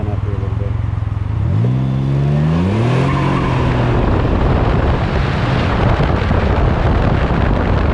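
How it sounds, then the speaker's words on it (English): A car in sport mode revs its engine as the rear wheels spin, the engine note climbing and wavering, then fading into heavy wind rush and road roar that dominate the recording. "Put it in sport mode, let the back end spin up here a little bit."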